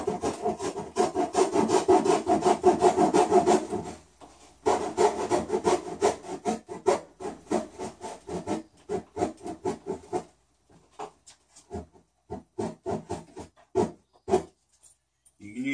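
Hand saw strokes rasp through wood in a steady back-and-forth rhythm, close and loud, pausing briefly before slower, more spaced strokes toward the end.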